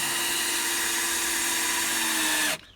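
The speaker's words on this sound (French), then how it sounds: "Ensuite, on visse" A power drill driving a screw into reclaimed wood while building a chicken coop, a steady high motor whine held for about two and a half seconds before cutting off abruptly, close and loud with no talking.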